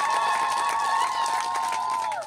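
Crowd at an outdoor Tunaishi Nao charity campaign event in Makanjaula cheers and claps steadily throughout, a dense, sustained wash of applause with shrill whistling and voices mixed in.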